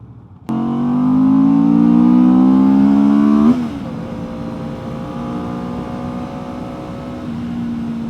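A Benda BD500 motorcycle engine starts abruptly and settles into a loud, steady drone, then drops to a quieter, even idle after a few seconds. No one speaks over it.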